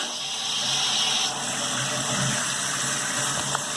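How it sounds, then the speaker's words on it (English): Water rushes into a toilet tank through a newly installed fill valve, a steady hissing gush that continues evenly throughout at close range. "And I'll turn the water back on."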